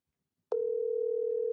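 Steady telephone dial tone sounding over a speakerphone call, starting abruptly and holding at an even, moderately quiet level with no talk over it.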